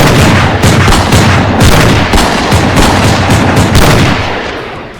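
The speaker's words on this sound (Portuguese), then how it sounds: "os tiros também não fazem nada" Mobsters fire a sustained barrage of guns at a monster, dense overlapping shots and booming reports in a continuous loud fusillade that tapers slightly at the end.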